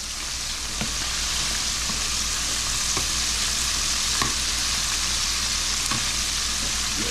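Frog legs fry in a hot pan with a dense, steady sizzle and crackle. Sharp clicks of stirring or turning break through every second or so, close up and with no talking.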